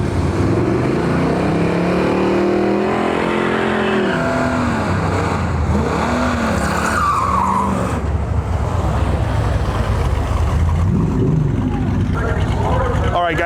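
A Buick and a Ford Fiesta run a drag race, with engines revving and roaring, rising and falling pitch sweeps, and tire noise. A voice talks over the cars throughout.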